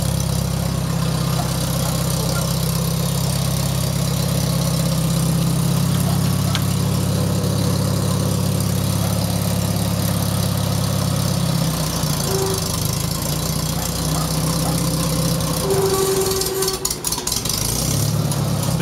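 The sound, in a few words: 1973 IH Farmall 140 tractor engine idling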